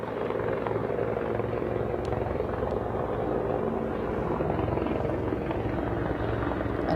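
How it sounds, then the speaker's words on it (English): Water-dropping firefighting helicopters flying overhead at a large wildfire near homes, a loud, steady rotor drone that fills the whole stretch, close and continuous with no break. "water dropping helicopters overhead"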